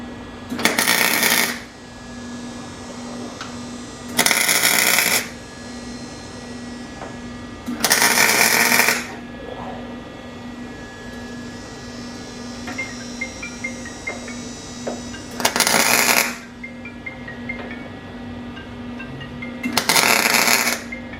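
Welder tacking a steel engine mount plate into an engine bay: five short, loud buzzing bursts a few seconds apart over a steady electrical hum.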